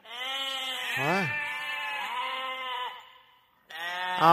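Goats bleat loudly and close, long wavering cries one after another, with a brief silence before another bleat begins.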